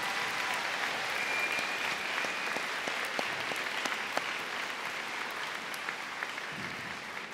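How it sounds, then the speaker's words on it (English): Audience at a high school senior convocation applauds school staff, a steady, fairly distant wash of clapping with scattered sharper claps throughout. "a huge round of applause for all they do for the students"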